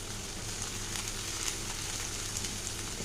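An egg sizzles steadily in a frying pan on the stove, a soft, even crackle throughout with no voices.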